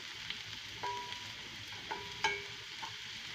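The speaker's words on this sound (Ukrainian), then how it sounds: "Ось так і нехай смажиться." Steady frying sizzle of mushrooms and onions in a pan, with a few brief clinks and stirring scrapes over the continuous hiss.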